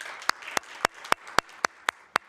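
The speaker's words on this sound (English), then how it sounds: "let's give a round of applause to our COVID Award heroes for District 1 and District 2" Sparse, evenly spaced claps ring out one at a time against a quiet background, like a single person clapping.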